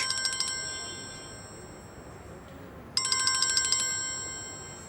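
A phone ringtone sounds in two bursts of rapid electronic trilling, separated by a short pause, over faint background hiss.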